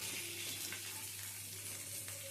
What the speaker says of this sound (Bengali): পটলটা ওদিকে ভাজা বসিয়েছি